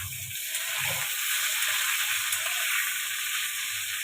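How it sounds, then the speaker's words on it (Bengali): Pointed gourd fries in hot oil in a pan, giving a steady, close sizzle and hiss with a faint low bubbling underneath and no talk over it. "তো আমার পটলটা ভাজা হয়ে গেছে, ভাজা ভাজা হয়ে গেছে পটলটা।"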